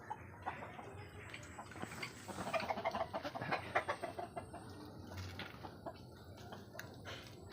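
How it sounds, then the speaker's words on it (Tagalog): Several chickens cluck and murmur nearby, a busy cluster of short clucks rising in the middle and then settling into quieter background sounds. "check muna natin yung mga alaga natin, manok"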